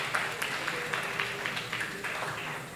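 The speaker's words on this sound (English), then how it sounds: "So please clap for him" A debate audience claps for a judge at a school debate championship grand final, a dense, fairly distant wash of applause that holds steady throughout.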